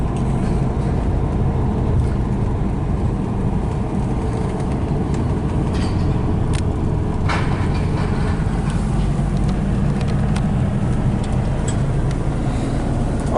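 A 1970 VW Type 3 fastback coupe drives along on a test drive, a steady low engine and road rumble heard from inside the car, continuous and fairly loud throughout with no talking.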